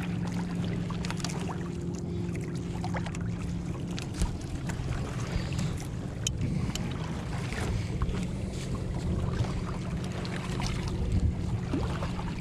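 A sailboat glides across the water on a fine day at Ponderosa State Park, with a steady rush of wind and water and faint creaks and splashes running throughout, and no one speaking.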